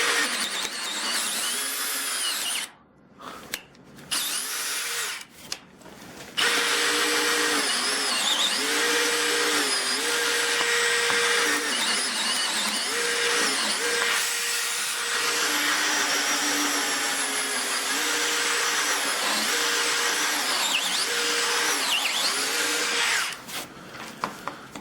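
A Dewalt 12V hammer drill strains in low gear, its steady loud motor whine holding for most of the stretch with a few brief stops early on, labouring with wavering pitch before cutting out near the end.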